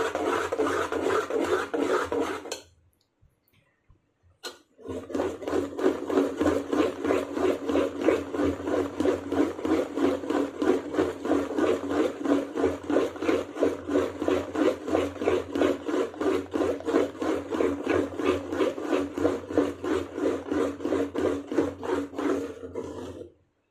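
Idli batter beaten by hand in one direction, a close, rhythmic rubbing and scraping in fast repeated strokes, briefly paused after a couple of seconds, then continuing steadily to the end.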